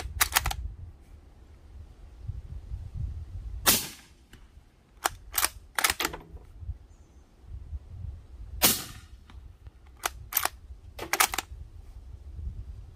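Suppressed subsonic 7.62x39 shots from a Ruger American rifle fitted with a Silencerco Omega 36M, outdoors: about nine sharp, loud cracks come in spaced pairs and singles, with quiet background between them and no talk.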